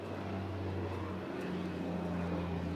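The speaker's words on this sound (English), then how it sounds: "And you can hear the plane in the background." An airplane flying overhead during an outdoor National Heroes Day celebration in the Cayman Islands: a steady low engine drone with a faint hum, continuous and fairly distant, no speech.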